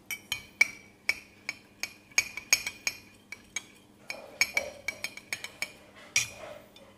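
A spoon stirs iced lemon coffee in a glass, striking the sides in a steady series of bright, ringing clinks, close and fairly loud, with the rhythm quickening toward the end and no talking.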